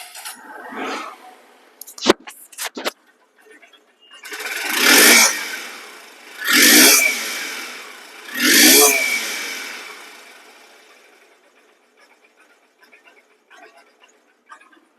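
A 2024 Honda SP Shine motorcycle in showroom condition revs three times in a row. Each rise and fall of engine noise is loud and close, with a few scrapes and clicks before and quiet after.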